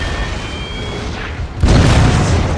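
Cannon fire in Napoleon Total War with a World War I mod, a single loud boom landing midway after a quieter stretch of battle ambience, its rumble lingering to the end.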